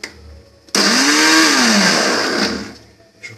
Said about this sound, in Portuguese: vou misturar tudo aqui, ó. Botar dentro do liquidificador